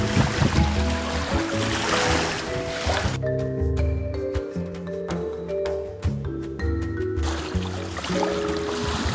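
A lightweight boat built from a single sheet of plywood, running on open water: a continuous motor drone and splashing hull noise that drops away midway and then returns, with no speech.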